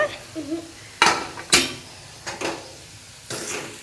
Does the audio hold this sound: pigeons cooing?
no